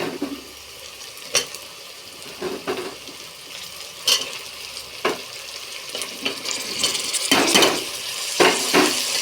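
Tomatoes being stirred in a frying pan, with scattered scrapes and clinks of a spoon against the pan over a steady low sizzle, the strokes coming at irregular intervals and growing busier toward the end.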